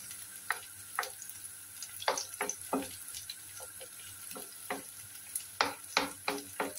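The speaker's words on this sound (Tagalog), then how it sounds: "prituhin natin ng konti" Calamari frying in a pan for a pacham dish, giving a steady background sizzle broken by sharp pops and crackles that come in irregular bursts, moderately close.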